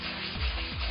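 Sandpaper rubs by hand over a tractor wheel rim in quick, close, rasping strokes, two distinct back-and-forth passes with no talking.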